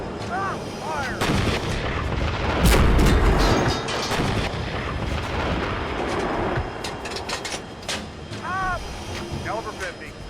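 Artillery fire at a firing exercise: a heavy boom followed by rolling, rumbling reports and sharp gunfire, with voices speaking around the shots and aircraft-like tones near the end.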